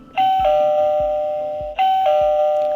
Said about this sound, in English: Who's that ringing the bell at Radio OwlsNest today?